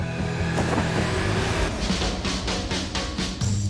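Renault 4L GTL, a small Renault car first launched in 1961, sits idling with a steady engine drone and a few rhythmic thumps and clicks over it, loud and close, with no talk.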